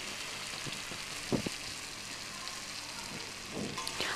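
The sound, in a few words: pointed gourd and potato frying in a pan with tomato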